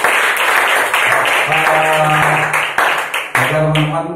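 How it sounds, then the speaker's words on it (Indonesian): An audience claps loudly and continuously for several seconds at a morning motivational gathering, with voices calling out over the applause. "Tepuk tangan buat kita semua."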